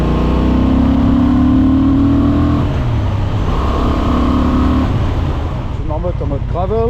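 A Honda Transalp 750 motorcycle engine pulls hard in fourth gear, a loud, close, rising drone that holds steady, with the rider's voice over it.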